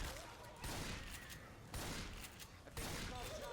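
Gunfire in the zombie shooter game Left 4 Dead 2 comes as dense, loud volleys in repeated bursts over a constant noisy game backdrop.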